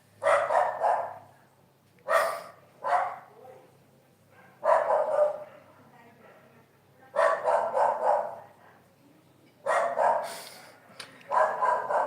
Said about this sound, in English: Always the dogs of the neighbors start to barking when I do the live